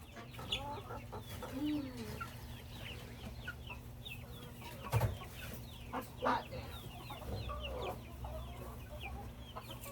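Hens cluck softly and steadily inside a backyard chicken coop, scattered calls rising over a low constant hum, with a couple of brief louder bumps near the middle.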